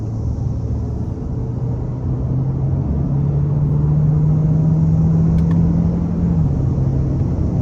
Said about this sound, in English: I'm gonna try and give it another pull here.